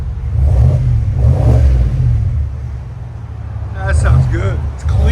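A 2023 Cadillac Escalade 600 with its 6.2L V8 and a Borla S-Type exhaust rumbles deep and steady, swelling through a couple of revs while people talk close by.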